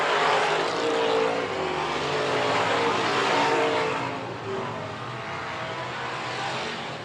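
Street stock race cars at a speedway feature race, a loud, sustained roar of several engines blending together, swelling as the pack passes and then easing slightly into a steady drone.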